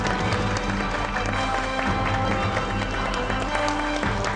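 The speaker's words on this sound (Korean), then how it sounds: "박수로 환영해 주십시오" Studio audience applause welcoming a guest doctor onto a Korean television health talk show; dense, steady clapping from a crowd throughout, fairly loud and unbroken.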